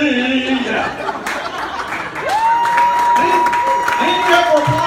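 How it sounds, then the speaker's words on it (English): Audience applause rises at a comedy revue show, with a crowd clapping steadily under chuckles and chatter, while a sustained tone and whistle-like sweeps sound over it. "Thank you for applause."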